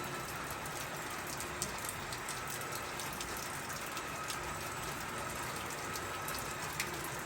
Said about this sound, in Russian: Каждый день идет дождь.